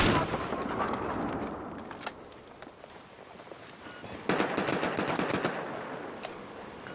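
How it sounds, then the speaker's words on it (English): Gunfire in the video game Battlefield 4, with sustained rapid automatic bursts and scattered shots over a steady rumble, growing denser near the end. "Someone else is shooting me from up there."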